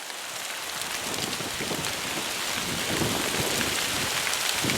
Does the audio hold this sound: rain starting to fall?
yes